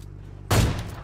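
Gunfire in the PUBG Mobile battle royale game: a sudden loud burst of shots erupts midway through a low background hum and rolls on with dense, continuous firing to the end.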